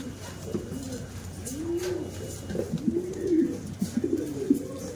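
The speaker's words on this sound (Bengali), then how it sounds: "দেখুন শৌখিন কবুতর, ফেন্সি কবুতর, খুবই সুন্দর বিউটি হামা কালো অনেকগুলোই আছে।" Several fancy pigeons, including black Beauty Homer birds, coo in repeated low, rounded calls close by, overlapping against a busy background hum.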